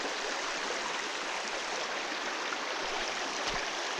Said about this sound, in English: That is a creek crossing, my friends.